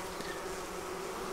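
Honey bees fan and buzz around a swarm being hived into an Apimaye 7-frame nuc, a dense continuous drone of many wings, close and steady, with no voices.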